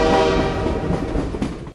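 Train passing with its horn sounding, a loud, close tonal blast layered over rolling rail rumble and clatter, fading out abruptly at the end.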